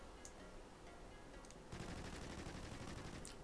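Automatic AR-X rifle fire in Call of Duty Ghosts Gun Game plays as a faint, dense rattle that grows louder and more continuous partway through, with no voices.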